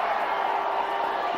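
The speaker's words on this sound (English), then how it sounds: "this is the largest crowd on the last day" A large crowd at a cricket stadium on the last day of the 2005 India vs Pakistan first Test at Mohali, a steady, dense roar of cheering and voices throughout, no single sound standing out.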